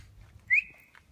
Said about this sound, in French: Sifflet.